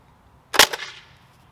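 A Nerf Dog tennis ball blaster fires a tennis ball with one sharp, close pop and a short rattling tail, set against quiet background noise.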